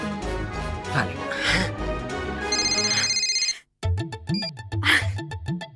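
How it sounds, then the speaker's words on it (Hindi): A telephone rings in a TV drama scene, a repeated electronic ringtone melody blending with a dramatic music score, loud and close, cut by a brief silence midway. "बा फोन उपाड़ू, मेरी सहेली का फोन होगा"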